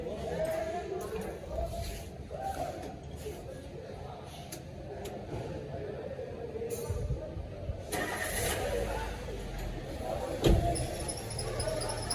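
A car engine starts up while the vehicle sits raised on a service lift in a workshop during a routine periodic service check, with a brief louder burst near the end and steady background noise.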